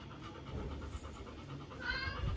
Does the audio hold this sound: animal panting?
yes